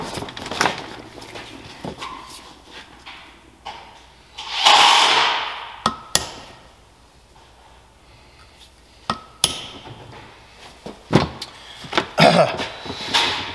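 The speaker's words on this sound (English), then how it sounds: "I was trying to center punch those" Sharp metallic hammer strikes on a center punch land irregularly on metal dowel pins of a JLG 600AJ manlift basket rotator, some single and some in quick pairs, with a louder ringing hit partway through and quiet gaps between.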